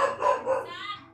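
Dogs bark and yip in a quick burst of several sharp, fairly close barks that trail off into lighter yelps.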